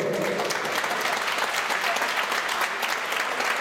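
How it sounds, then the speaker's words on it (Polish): A crowd at a boxing gala applauds warmly for two fighters, a dense, steady wash of clapping that holds at full level throughout with no speech. "gorące brawa dla jednego i drugiego"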